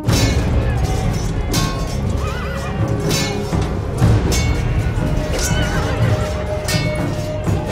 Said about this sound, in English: the whinny of a horse in pain